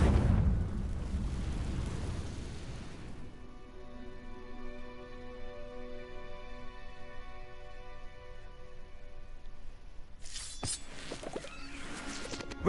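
A Confringo fire spell explodes in Hogwarts Legacy, a loud rumbling blast at the start that decays into a long ringing, humming tail, followed by a sharper magical burst near the end.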